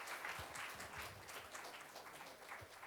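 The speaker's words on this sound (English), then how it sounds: "Please clap for your friend." An audience at a college mentoring session gives a faint, distant round of scattered clapping that carries steadily for a few seconds.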